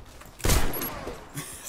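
Single loud shot from the player's gun, a shotgun, in the shooter game Warface, a sharp blast followed by a brief tail and a faint later thump.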